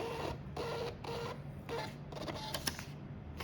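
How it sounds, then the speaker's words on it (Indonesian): A Panda PRJ-R80B thermal printer runs off a Tokopedia shipping label in several short whirring bursts, fairly quiet and close, with no one talking. "secara otomatis printer akan mencetak"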